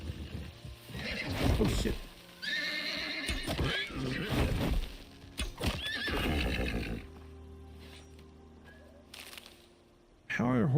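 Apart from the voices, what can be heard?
horse neighing and hooves clip-clopping in a video game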